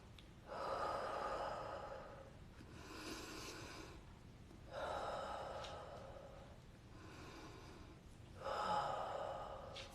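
Slow, deep breaths taken as part of a guided breathing exercise, with three long audible inhales spaced evenly and softer exhales between them, close and alone without talk.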